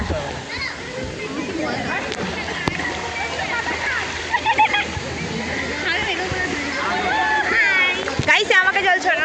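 Water splashing and sloshing at a water park, continuous rushing and spraying under excited voices, shouts and chatter throughout.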